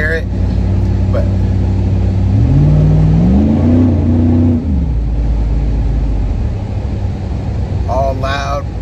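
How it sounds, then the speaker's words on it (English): GMC Sierra crew cab pickup with a straight-pipe exhaust and no muffler, a loud, close, droning engine rumble that rises briefly in pitch as it revs mid-way before easing back to a steady cruise. "all loud, no muffler, just a straight pipe"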